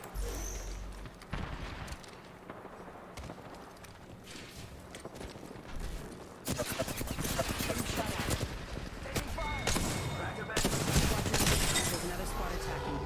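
Video game gunfire rattles in quick bursts of shots, growing denser and louder toward the end, under occasional talking.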